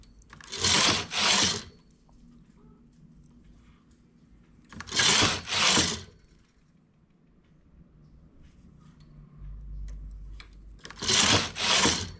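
A knitting machine carriage slides across rows of wool in three separate passes, each a loud, rushing double sweep, with quiet pauses of faint handling noise between them.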